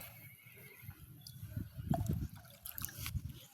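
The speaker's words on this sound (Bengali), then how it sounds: "এখান থেকে পানি নিব" Water being drawn out of a guppy fish tank, with soft trickling and dribbling liquid sounds that swell into a few louder splashy bursts in the middle and near the end, heard close up without talk.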